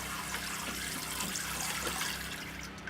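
Running water from a battery-powered off-grid shower, a steady, close hiss of spray with no talk over it.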